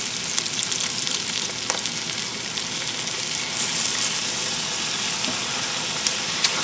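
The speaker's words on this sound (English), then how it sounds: "now you add roughly the first cup of the beef broth" Beef broth poured into a hot cooked flour roux for French onion soup, giving a continuous bright sizzle with soft stirring clicks, close and fairly loud throughout.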